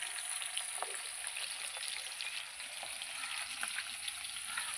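Fish pieces frying in a pan give a soft, steady sizzle with scattered small pops, heard fairly faintly and with no talking.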